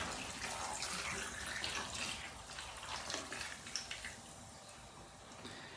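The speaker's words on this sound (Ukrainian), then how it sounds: "коли ще не вийшов весь газ із води, заливаємо наші помідорчики" Sparkling mineral water pours over tomatoes in a container, a soft continuous gushing hiss with fizzing at the top, fairly quiet and close, then easing into a lighter trickle toward the end with no talk over it.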